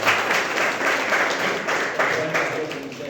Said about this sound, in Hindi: ताली से सम्मानित,